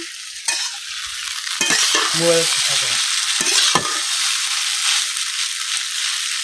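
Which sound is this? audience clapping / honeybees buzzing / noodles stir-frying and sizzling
noodles stir-frying and sizzling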